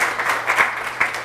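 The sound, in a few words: audience applause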